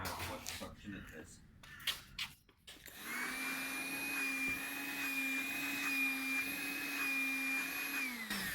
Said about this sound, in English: Just vac up this dust over here. See how it goes. I need to know what suction it has.